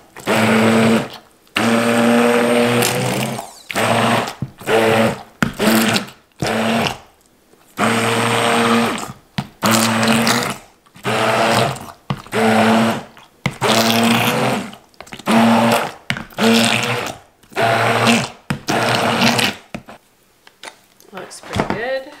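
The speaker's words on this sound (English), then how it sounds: "You could do this like what I'm doing with an immersion blender." An immersion blender pureeing cooked pumpkin runs in repeated bursts of a few seconds each, a loud whirring motor hum stopping and restarting with short silences between pulses.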